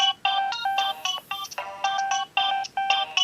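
A Nokia 2115i superphonic ringtone plays a bright, chirpy electronic melody in short repeated phrases, at fairly modest volume and heard alone.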